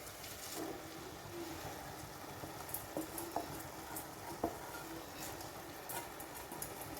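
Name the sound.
soaked basmati rice being added and sautéed in pan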